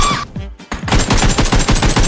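Loud single-shot rifle fire from a PUBG match, a quick run of sharp, evenly spaced cracks fired one after another at close range with no voices.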